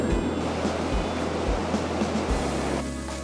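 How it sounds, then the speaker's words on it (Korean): Ocean surf washing steadily onto a seaside shore, a continuous loud rushing wash with periodic low thumps of breaking waves, heard alone without talk. "간식 먹으면서 파도 소리 듣고."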